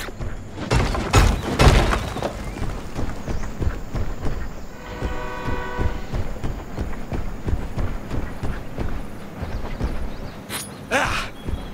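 A train in an animated series rumbles and clatters rhythmically, loud and near, with a brief horn-like tone in the middle and scattered heavy impacts at the start and end.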